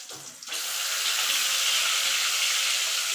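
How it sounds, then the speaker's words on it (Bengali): Boal fish pieces fry in hot oil. After a brief quiet start, a loud, continuous sizzling hiss fills the rest of the clip. "এইভাবে মাছগুলো একটু ওপিট করে আমি লাল লাল করে ভেজে তুলে নেব।"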